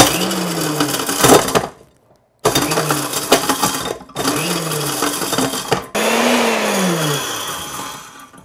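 Industrial grinder pulverizing hard chaga mushroom pieces in loud whirring bursts, each with a motor pitch that rises or sweeps and gritty rattling chunks, separated by brief pauses between runs.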